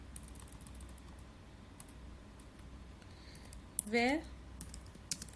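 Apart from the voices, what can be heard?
typing on a computer keyboard in MS Word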